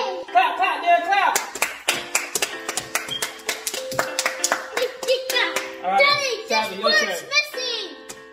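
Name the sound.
child clapping hands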